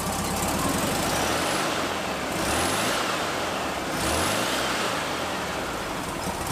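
A 1963 Volkswagen Bus engine running, a steady, loud broadband rumble with a rising and falling whoosh of passing motion, continuous and close with no talk.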